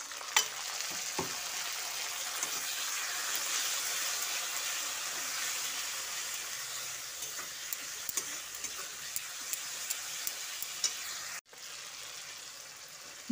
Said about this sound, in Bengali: সামান্য একটু জল দিয়ে মশলাটা কষিয়ে নিচ্ছি